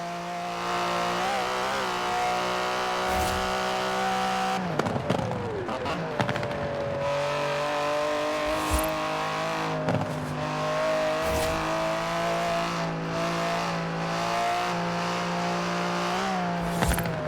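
An Aston Martin DB11 drives in the video game Forza Horizon 4, its engine droning steadily with pitch shifts through gear changes and brief thumps, while a narrator talks over it.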